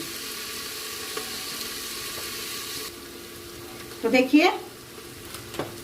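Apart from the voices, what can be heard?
onion, potato and vegetables frying in a cooker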